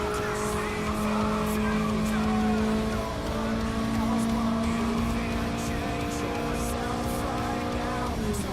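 A Mazda MX-5 first-generation 30th Anniversary car in the Gran Turismo Sport video game holds a loud, sustained engine drone with a steady whine and faint tire squeal, while someone talks over it.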